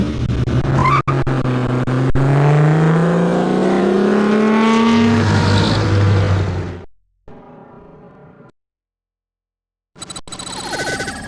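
A car engine revs hard and accelerates away, its pitch climbing before the sound cuts off abruptly, leaving a short stretch of quieter noise and then near silence before faint sound returns.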